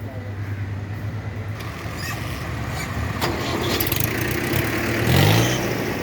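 Tractor engines rumbling and revving nearby in a long line on a river embankment at Dhaingarpur, rising in loudness toward the end, with voices faintly mixed in.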